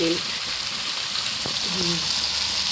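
Curry gravy cooks down in oil in a pan, giving off a steady, close, even frying sizzle with a faint bubbling texture throughout and no break.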